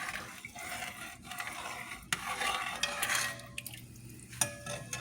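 A spoon scrapes and stirs rice cooking in a pot for arancini, with soft clinks against the metal and a faint simmering sizzle, close and uneven, a few sharper knocks standing out.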